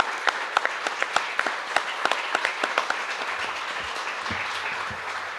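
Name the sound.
audience applause for guests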